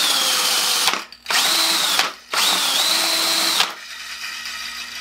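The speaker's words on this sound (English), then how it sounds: "This is a half-inch drill motor" A half-inch power drill driving a paint shaker whines loudly in two long bursts separated by brief pauses, then winds down to a quieter running hum.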